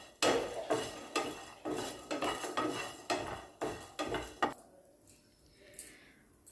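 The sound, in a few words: cashews and coriander seeds added to a pan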